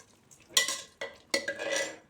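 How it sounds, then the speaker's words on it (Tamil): Rice being stirred together with fried onions and curry leaves in a pan for a Tirunelveli-style kootanchoru, three brisk scraping bursts of spoon against metal with a faint sizzle, close and alone. "இப்போ சாதத்தோடு சேர்த்து நல்லா கிளறி விட்டுக்கலாம்."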